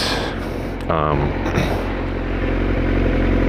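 A Honda CBR sport motorcycle passing in heavy traffic, a loud close engine roar rising about a second in over a constant low road rumble, with someone talking over it.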